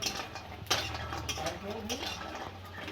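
A metal spoon stirs and scrapes a pot of vegetable stalks cooking with potatoes and bori, sun-dried lentil dumplings, giving repeated clinks and scraping close by over a steady kitchen background.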